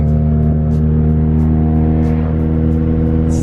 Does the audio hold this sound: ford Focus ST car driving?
yes